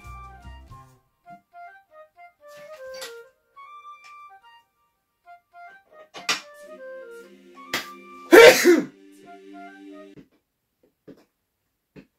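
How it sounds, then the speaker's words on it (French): While someone builds a headset and controller stand, a single sharp, loud sneeze bursts out about two-thirds of the way through. Quiet, scattered clicks and faint tonal sounds are heard around it. "j'ai éternué en fait, j'attendais que ça venait"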